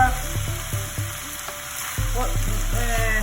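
Onion frying for a chicken samosa filling, a steady close sizzle that swells louder about two seconds in, with tonal music playing throughout.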